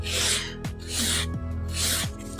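A nail file rasps over a sculpted acrylic stiletto nail in steady back-and-forth rolling strokes, loud and close with brief pauses between passes.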